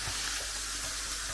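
Minced beef fries in a pan alongside chopped peppers, giving a dense, steady sizzle with spitting crackles, close and continuous, no voices.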